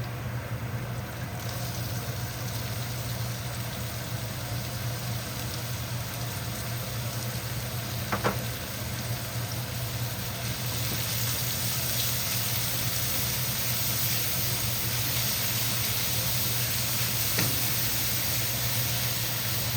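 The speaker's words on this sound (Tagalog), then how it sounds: "Nag-brown na yung garlic natin. So, ilagay po natin ang onion natin." Chopped onion sizzles in a pan of hot oil with browned garlic while chicken curry with coconut milk is being cooked. The hiss is steady and broadband throughout, with a couple of faint clinks.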